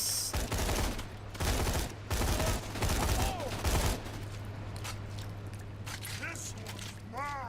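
Gunfire in the video game Borderlands 2 comes as bursts of rapid shots over a constant game hum, heavy for the first few seconds and then thinning into sparser shots and electronic effects.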